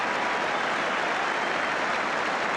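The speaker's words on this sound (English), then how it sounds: "And the goalkeeper gets applause for the second save." A football stadium crowd at a match between Everton and Spurs applauds a goalkeeper's second save, a steady, dense wash of clapping that fills the whole moment with no voices on top.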